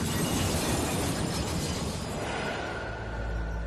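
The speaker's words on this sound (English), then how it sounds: "307 tons of runaway train smash into the commuter train on platform 2." A 307-ton runaway train slams into a commuter train standing at platform 2 of the Gare de Lyon station, a loud sustained crashing roar with shattering debris that fades slightly toward the end.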